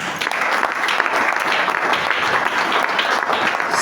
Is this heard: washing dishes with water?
no